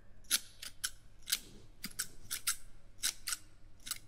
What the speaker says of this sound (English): So we're going to give you a bit of a trim.